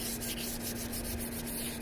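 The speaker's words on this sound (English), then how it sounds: "Gotta make sure we sand it real good." Sandpaper is rubbed over a kayak keel guard in a steady, continuous scratchy scrubbing, close and even in level, with a faint constant hum underneath and no talking.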